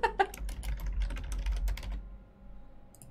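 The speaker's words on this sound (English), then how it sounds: "My cat knows how to touch a keyboard." A cat pressing keys on a computer keyboard: a quick irregular burst of clicking keystrokes that thins out, followed by quieter background and a couple of faint clicks near the end.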